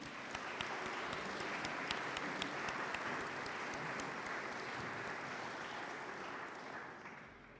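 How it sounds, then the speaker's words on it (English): A ceremony audience gives sustained applause at the 2023 Poet Laureate investiture in San Antonio. The clapping sounds faint and somewhat distant, a steady even patter of many hands that slowly tapers off toward the end. "So please give them a round of applause."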